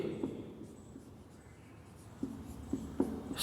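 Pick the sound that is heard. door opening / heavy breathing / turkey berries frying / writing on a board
writing on a board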